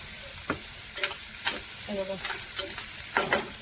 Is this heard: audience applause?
no